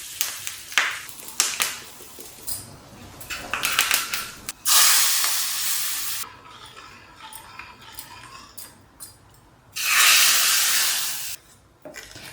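Hot oil tempering with mustard seeds, cumin, curry leaves, turmeric, red chili powder and hing crackles in quick pops, then breaks into two loud, hissing sizzle bursts as it meets the dal, heard up close.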